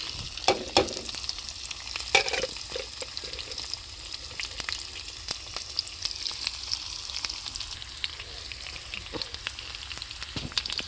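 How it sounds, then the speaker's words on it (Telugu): Onions fry in hot tempering oil with dried red chillies, a steady close sizzle. Occasional spatula taps and stirring clicks sound without any talking. "ఉల్లిపాయలు వేసుకుందాం"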